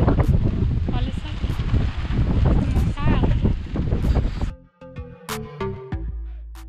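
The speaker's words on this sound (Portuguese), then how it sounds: "Ó o vento, gente, tá caindo tudo, tá voando tudo" Strong wind gusts roar and buffet a microphone at a mountain campsite on the Soldado Sebold trail in Alfredo Wagner, Santa Catarina, with a tent flapping; loud, continuous rushing that drops off abruptly near the end, followed by quieter clatter.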